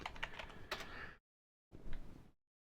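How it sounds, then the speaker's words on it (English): Quiet close keystrokes on a computer keyboard come in two short bursts of rapid tapping, separated by a brief silence. "Let me just type in Channel Origin."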